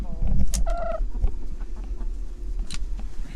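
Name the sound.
broody hens clucking in a hoop coop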